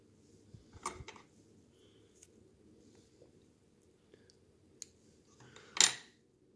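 Material snipped into small pieces with scissors for a fly-tying project, a few sparse close clicks and snips spaced out over quiet background, with one sharper cut near the end.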